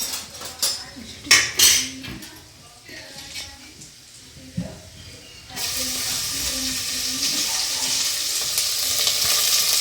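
A spoon clatters against a pan, then mustard seeds and cumin hit the hot oil and burst into a loud, steady sizzle that continues to the end, with stirring close by.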